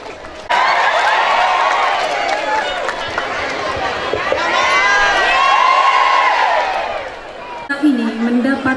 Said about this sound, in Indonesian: Tepuk tangan sekali lagi ya, Maria, buat Pak Bupati juga